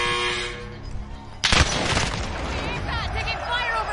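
Gunfire erupts in Call of Duty: Warzone, a sharp loud burst of shots hitting suddenly after a quieter start, then a rattling spray of fire trailing off under a voice talking.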